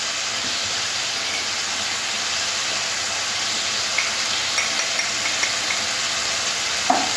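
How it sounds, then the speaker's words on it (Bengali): Spice masala sizzles steadily in a pan for tangra fish curry with poppy seed paste, a constant bright frying hiss broken by a few soft clinks of stirring. "মশলাটা একটু হালকা নাড়াচাড়া করে নেব, বেশি কষতে লাগবে না।"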